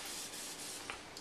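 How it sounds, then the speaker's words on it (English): Olive oil misted from a pump spray bottle onto food for cooking: a continuous soft, breathy hiss lasting about a second, close and steady, with no talking. "You're just using olive oil and you spray very little."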